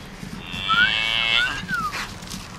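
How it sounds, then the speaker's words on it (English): A cow moos loudly and close, one drawn-out call with a rising and falling pitch, as cattle come running toward a farm truck. "the cows are going to come running"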